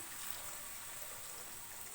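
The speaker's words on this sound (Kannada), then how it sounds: "ಸೊ ಫ್ರೆಂಡ್ಸ್ ನೋಡಿ ನೀರು ಇಡ್ತಾ ಇದ್ದೀನಿ ನಾನು" Water being poured into a pan of beetroot curry, a steady broadband rush without pause, fairly faint and close, with no voices.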